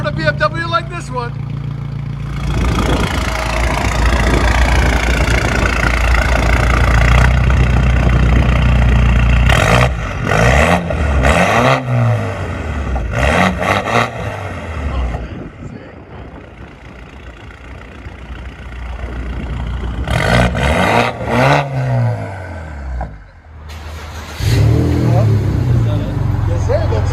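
A BMW 5 Series engine idles, then revs hard in several loud, close bursts with pauses between, while someone talks over it.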